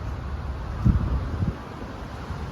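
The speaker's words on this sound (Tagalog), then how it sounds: "Mahangin sa kwet." Strong wind blows outdoors in Kuwait, a steady roar of wind buffeting the microphone with a couple of louder low gusts.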